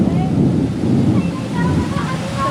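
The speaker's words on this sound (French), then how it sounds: "Ce que vous entendez, c'est la pluie." Heavy rain pours down during a storm in the Brazilian Amazon, heard from inside a van as a loud, dense, steady roar with low rumbling underneath and faint bird calls.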